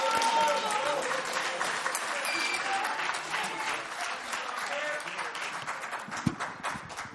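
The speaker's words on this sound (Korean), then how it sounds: "박수로 환영하겠습니다." An audience at a freedom-unification forum event gives a dense, steady round of applause to welcome a speaker. The clapping runs throughout, with crowd murmur and some talk mixed in.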